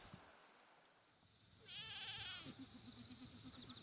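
Goats of an improved, newly bred high-yield breed bleat in a farm setting: a rising, wavering call, then a steadier repeated bleat, close and clear over a low background murmur.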